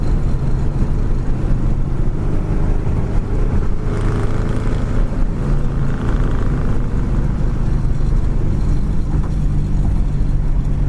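Steady, loud engine drone of a 1955 Ford with road rumble throughout, a constant low hum as the car cruises along at about 55 to 60 mph without letup.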